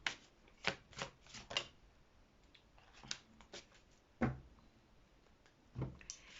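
Tarot cards drawn and laid out during an autumn reading, heard as several soft separate card snaps and slaps with quiet gaps between them, close and faint with no talk.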